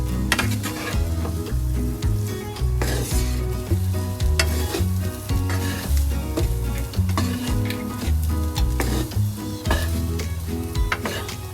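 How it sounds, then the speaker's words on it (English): Schezwan pasta is stirred through sauce in a sizzling pan, a close continuous frying hiss with rhythmic scraping and stirring strokes and light utensil knocks. "Now stir it so the sauce is evenly spread"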